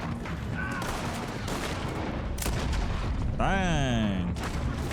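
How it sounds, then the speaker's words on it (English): Gunfire in the Red Dead Redemption 2 video game during a horse robbery, with horses being shot: dense, chaotic bursts of shots fill the scene, followed near the end by a loud descending, squealing tone. "they're shooting the horses."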